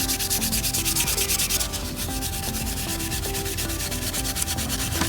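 Steady, close scrubbing of metal garden tools sprinkled with baking soda, a continuous brisk rubbing rasp with a rapid back-and-forth rhythm and no speech.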